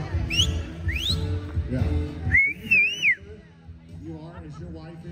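Sharp rising whistles from a man cut through a noisy crowd at a bull riding event, with a longer warbling whistle in the middle, while people talk and cheer around it.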